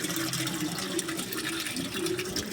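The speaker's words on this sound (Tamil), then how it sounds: "அந்த டேங்கில் உள்ள தண்ணி இதில் வருது" Water flows steadily from one tank into another during cleaning of a water storage tank. A continuous, close rushing and splashing holds at an even loudness throughout, with no voices.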